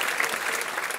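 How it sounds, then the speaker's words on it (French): A comedy show audience at a Paris humour festival claps in a brief, dense burst of applause, steady and fairly soft, with no talking over it. "Merci d'applaudir cet espoir."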